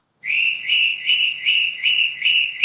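Sharp, loud whistling from people, repeated in a regular pulsing rhythm of about six blasts with no pause between them, close by and with no talking.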